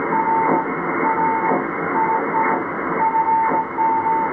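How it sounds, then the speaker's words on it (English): A shortwave radio tuned to 4477 kHz upper sideband gives a steady band of static with a thin repeating tone keyed on and off. Soft periodic swooshes pass through it. "4477 upper sideband. You guys hear it?"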